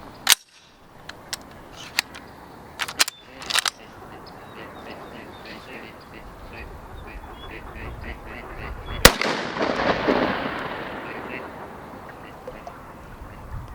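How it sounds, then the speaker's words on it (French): Shotgun shots from BP Valley Steel 32 gram steel shot cartridges fired at a target 30 metres away outdoors, several sharp loud cracks early on and one heavier blast later, each followed by a brief echo over steady background noise. "je vais tirer la Valley Steel de chez BP en 32 grammes"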